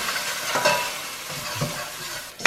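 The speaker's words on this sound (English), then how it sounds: "I'm going to stir that around." Curry paste with turmeric gets stirred around in a pan, soft scraping strokes over a faint sizzle, with a few distinct utensil scrapes and a sharp clink near the end.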